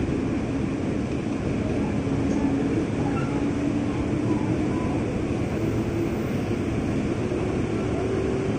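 A JR East 203 series commuter train runs in Indonesia, turning onto the elevated track at Manggarai station. A steady, loud rumble of wheels and motor carries throughout, heard from on board with a faint rising whine.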